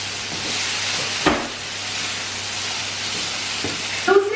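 Vegetables for a chicken stir fry sizzle in a hot pan with a steady, fairly loud hiss, broken by a couple of brief clatters and a stirring scrape near the end.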